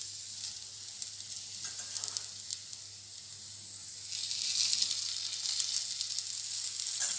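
Jowar thalipeeth, a flattened sorghum flatbread with holes filled with oil, sizzles on a pan in a steady close hiss that grows louder and brighter partway through, with no talking.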